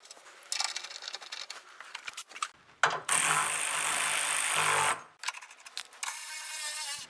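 Hand ratchet clicking in quick bursts while tightening crossmember bushing bolts on a 1978 Silver Anniversary Corvette, a steady run of close, crisp pawl clicks in the middle with shorter spurts before and after.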